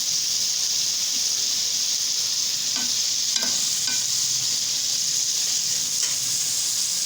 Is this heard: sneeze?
no